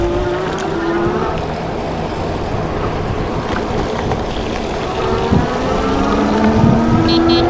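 An electric motorcycle is ridden in sport mode, giving a continuous whining drive tone that rises and falls in pitch under heavy steady wind rush.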